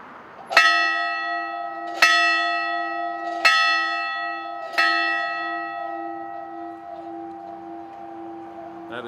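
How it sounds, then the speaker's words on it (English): Church bell of the Little Church of the West in Las Vegas, four clear rings about a second and a half apart, each tone ringing out and slowly fading, close and loud with no talking. "That is the actual bell."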